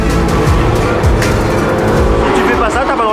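Race cars circling the track in practice and qualifying at the 24 Hours of Barcelona: a loud, continuous roar of engines, with cars sweeping past and rising and falling in pitch as they go by.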